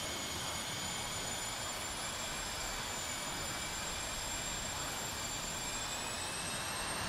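An SU-25T jet in a flight-simulation game spooling up to full power on the runway, a steady, loud whining roar with high-pitched turbine tones held throughout, no voices.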